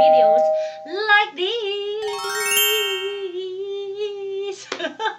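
Notification bell sound effect, bright chiming and tinkling tones with a rising shimmer, ringing for several seconds between bursts of talk at the start and end.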